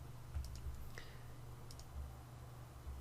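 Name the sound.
computer mouse clicking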